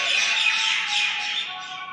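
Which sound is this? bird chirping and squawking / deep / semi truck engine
bird chirping and squawking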